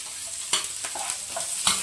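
Onion and curry leaves frying in a hot pan, a bright continuous sizzle with a few sharp stirring scrapes, close and fairly loud.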